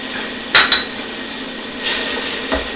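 Garlic sautéing in a pot for a spicy sausage lentil soup, a soft steady sizzle under a few sharp clinks of a utensil against the pot and brief stirring scrapes, close by.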